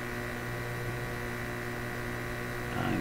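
Steady buzzing mains hum with layered harmonics from a Clairtone console stereo under test during an IF bandwidth check, continuous and fairly loud throughout with no talk.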